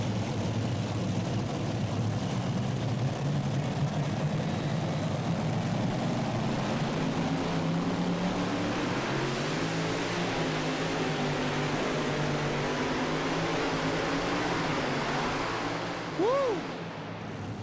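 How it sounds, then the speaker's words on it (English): Heavy, sustained engine roar from a super modified four-engine pulling tractor at a tractor pull in Greenville, Ohio, loud throughout with a rising and shifting pitch, then easing off near the end. "when that thing got hooked up, it yanked the front end of that tractor up, all 4 engines included"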